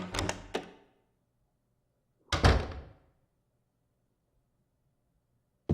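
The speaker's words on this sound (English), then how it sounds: "So now we can open up this door." Two separate door sounds from the Silent Hill 2 video game on PS2, each a heavy wooden thunk with a clattering rattle, roughly two seconds apart. Both are loud and close, with silence around them and no talking.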